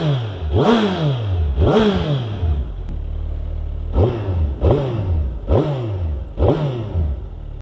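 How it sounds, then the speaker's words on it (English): A 2021 Suzuki Hayabusa motorcycle engine fires up and is blipped in six sharp, loud revs, two early and four more in quick succession, each rising and falling back to a rumbling idle, close by with no talking. "Okay, so let's start the bike up, and then you can hear the engine."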